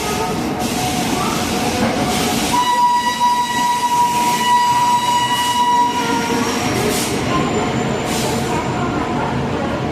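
An express train arriving at an Indian railway station rumbles loudly and continuously with a steady tonal whine and rolling wagon noise, under busy platform ambience.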